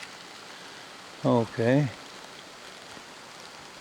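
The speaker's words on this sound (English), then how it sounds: "Walking in the rain" Steady soft rain patters over a campsite tent in Colorado, a constant faint hiss throughout while someone briefly speaks near the middle.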